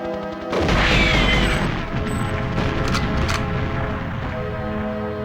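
A helicopter blows up in the shooter GoldenEye 007 with a sudden loud boom, then a sustained crashing roar that slowly eases over several seconds, with no voices.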